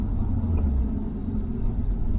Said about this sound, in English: I cannot believe that I'm driving an R34 Skyline GTR on the road right now.